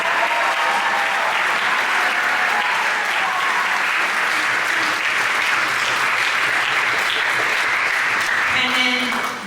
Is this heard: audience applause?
yes